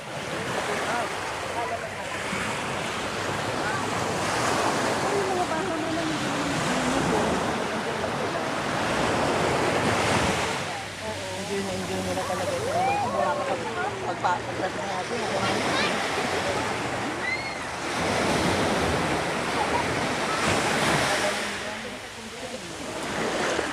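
Continuous surf rolls and washes in swelling surges, loud and close, with people talking and calling out over the roar of the water.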